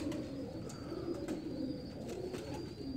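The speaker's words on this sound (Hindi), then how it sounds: "और बड़ा परेल कबूतर है, और देखने में आपको लग रहा होगा बड़ा लाइट वेट सा कबूतर है" Low, soft cooing of a handled pigeon, repeated murmuring coos close by with faint light rustles and no talk.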